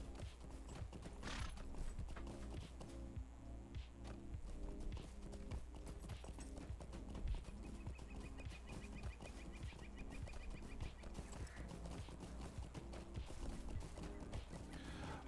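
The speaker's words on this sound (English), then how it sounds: "Doing a horse race over here against time." Horses gallop in a video game horse race, with fast, steady hoofbeats running the whole way through, close and continuous, alongside faint chicken clucks in the background.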